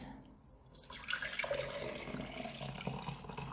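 Liquid trickles and pours steadily into a glass, a close, continuous splashing stream that builds after a quiet start.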